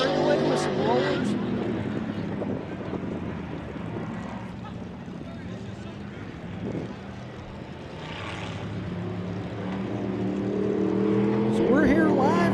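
Off-road race vehicles roaring around the course at the 2017 MetalCloak Stampede, a steady loud engine drone that swells toward the end. An announcer talks over it.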